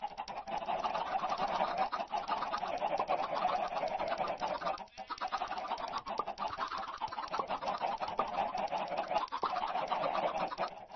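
Chickens cluck in the video game Minecraft, a steady, overlapping stream of soft clucks and bird calls, moderately loud, with a brief dip midway before the clucking picks up again.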